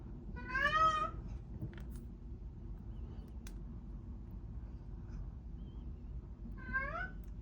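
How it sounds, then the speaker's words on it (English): A needy house cat meows twice near a bracelet-making bench, one rising, drawn-out cry at the start and a shorter one near the end, over a low, quiet room hum. "It's difficult to focus when you have a needy cat meowing at you."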